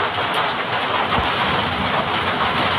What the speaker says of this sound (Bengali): এই বৃষ্টি মনে হইতেছে